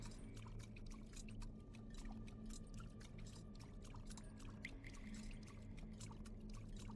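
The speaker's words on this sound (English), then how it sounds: "This water sound design is too strong." Flowing water sound effect from a video game, a steady faint trickling stream with small droplet clicks over a low constant rumble, continuous with no speech.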